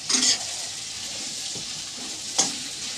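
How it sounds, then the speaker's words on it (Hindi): Rice fries in a pan in a home kitchen, giving a steady, moderate sizzle throughout, with two brief louder scraping stirs near the start and again toward the end. "मैं चावल फ्राई कर रही हूँ"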